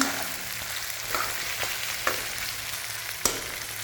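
Vegetables fry in a pan for bitter gourd gravy, giving a constant bright sizzle with a few sharp taps and stirring scrapes, close and loud.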